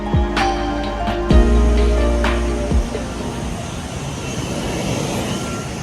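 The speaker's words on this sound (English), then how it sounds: "Welcome on board hs-tjs, a 14-year-old Boeing 777-200ER" Cabin of a 14-year-old Thai Airways Boeing 777-200ER on a Chiang Mai to Bangkok flight: a loud, steady engine and air roar fills the space, broken by a few heavy thumps and clunks early on.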